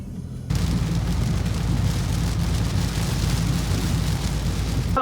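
Heavy rain drums steadily on a car roof and windows from inside the vehicle on a camping trip, a loud continuous roar with dense pattering that starts abruptly after half a second and holds without a break.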